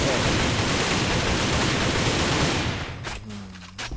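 Dense rapid rifle gunfire in the video game AVA roars almost continuously, then breaks off near the end into a few separate sharper shots and mechanical clicks.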